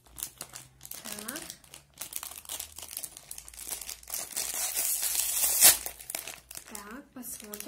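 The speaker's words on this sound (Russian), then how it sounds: "давайте откроем вот этот пакетик" A small plastic packet holding mini tapes is crinkled, crumpled and torn open close by, with steady rustling that builds to a sharp rip, while a person talks briefly at the start and end.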